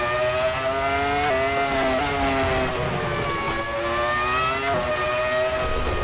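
A Ferrari F2004 Formula One car with a V10 engine hotlaps Mugello in the racing game Assetto Corsa, a loud, steady, high-pitched engine wail broken by several quick gear-shift dips, with no voices.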